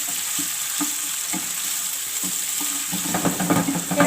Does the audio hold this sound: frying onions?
yes